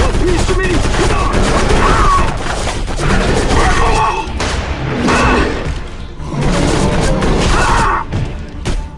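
Sustained gunfire in the video game Area 51 rattles in loud bursts with thuds and crashes, intense and close, while voices shout over the battle.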